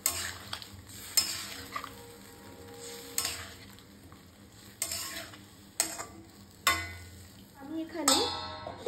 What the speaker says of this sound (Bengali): কষানো হয়ে গেছে, এবার আমি দুধ দিয়ে দেব।